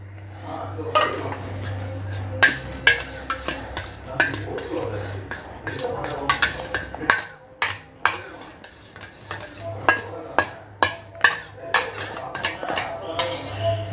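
A spoon scrapes and clinks around a bowl as eggless rava cake batter is mixed with cold butter, oil and milk, giving repeated sharp taps and scrapes over a low steady hum, with a voice talking.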